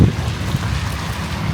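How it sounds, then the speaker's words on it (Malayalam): Wind blows hard during a sudden snowfall at Hamilton harbour, a steady broadband roar of gusts buffeting the microphone for a short stretch, loud and without speech. "കാറ്റുമുണ്ട്."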